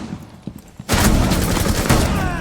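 Gunfire in the tactical shooter Rainbow Six Siege: a few faint distant shots, then a sudden loud, sustained fusillade of rapid, close shots.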